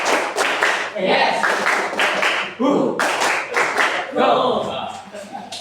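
Hand claps in a group clap-count game, short bursts of clapping in counted sets, mixed with people talking and calling out between rounds.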